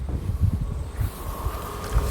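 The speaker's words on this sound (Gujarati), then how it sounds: "સારો પવન છે." Gusty outdoor wind rumbles and buffets against the microphone in a low, steady roar, with no voices over it.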